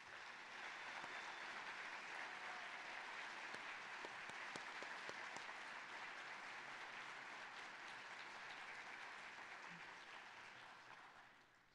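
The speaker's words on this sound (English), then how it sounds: "tonight's amazing artist, Carlos Arzate, another big round of applause" Lecture audience at a college science series giving a long round of applause for a performing artist, dense sustained clapping from a large room that gradually fades at the end, with little talk.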